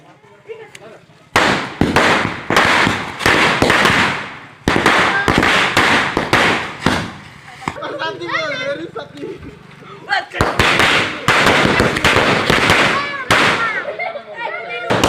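Loud strings of Diwali firecrackers crackling off in rapid bursts, with short gaps between volleys and voices talking in the pauses.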